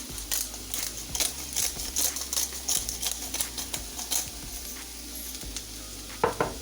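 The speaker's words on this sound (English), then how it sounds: "while the mushrooms are cooking, I'm gonna add in some black pepper" Mushrooms frying in a pan give a steady close sizzle, broken by quick crackling pops and clicking stirs throughout.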